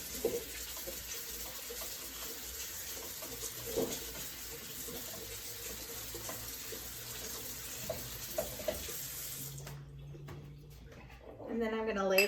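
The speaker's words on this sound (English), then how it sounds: "So the berries I'm going to rinse off." Cool tap water runs steadily over fresh strawberries being rinsed in a kitchen sink, a continuous hiss that stops near the end before a clatter of handling, with a voice talking over it.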